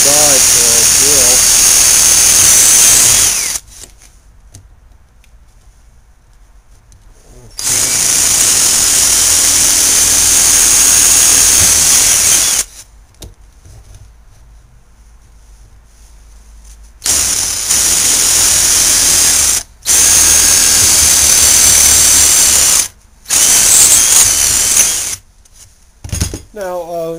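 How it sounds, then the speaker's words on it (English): A loud power drill whirs in several long bursts, drilling larger holes through a jig, stopping and starting, with quiet gaps between runs. "We're going to be drilling larger holes right through the jig."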